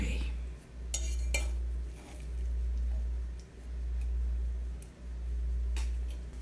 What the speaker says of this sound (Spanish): No me gusta que suene tanto la raspada de la olla.